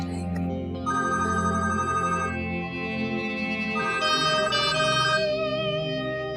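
A telephone in a Pakistani TV drama rings with a repeated electronic ringtone melody, steady and fairly loud, with no talking over it.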